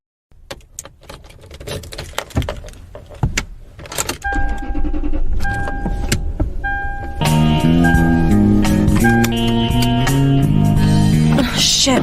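A woman gets into her car, with footsteps and key jangles leading up to door and interior clicks, followed by a sustained electronic chime and steady hum as the car comes on, heard close and fairly loud.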